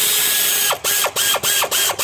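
A hand ratchet tightens the rear bolts of an alternator on a Ford 4.6, 5.4 or 6.8 Triton engine, giving loud, close clicking strokes that repeat about four times in a quick back-and-forth rhythm.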